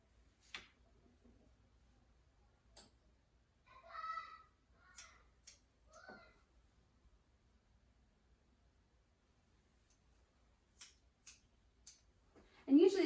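Sparse, crisp snips of scissors trimming a 12-year-old boy's hair near a cowlick, isolated clicks scattered across a quiet room with brief voice sounds between them.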